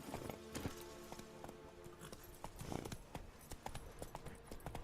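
Geralt's horse Roach trots up in The Witcher 3, with steady clip-clop hoofbeats on hard ground, fairly close and moderately loud, and a faint whinny mixed in over ambient game background.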